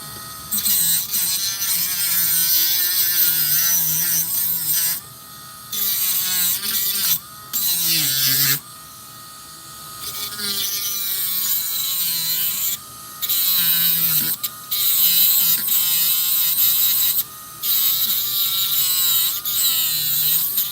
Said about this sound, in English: This needs a bit more grinding.